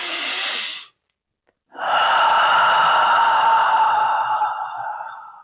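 Deep yogic pranayama breathing: a short airy inhale, a brief silent pause, then a long, loud, close exhale through the nose and mouth that slowly tapers off, no speech.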